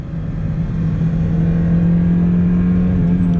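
A Mazda Miata at full throttle, its engine droning loud and close with a steady rising tone for a few seconds, alone without talk.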